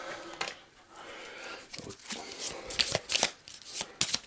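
A deck of cards being shuffled by hand for the Shadows of Brimstone board game, with quick riffling bursts and soft slaps of cards coming close and crisp amid brief pauses.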